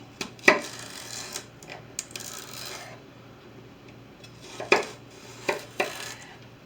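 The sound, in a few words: knife chopping celery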